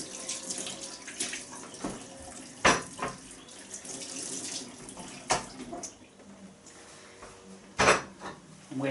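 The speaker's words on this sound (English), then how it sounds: "I'll just put that to one side and I'll rinse the potatoes." Water runs steadily from a kitchen sink tap while potatoes are rinsed, a continuous wash broken by a few sharp knocks and clatters of handling in the basin.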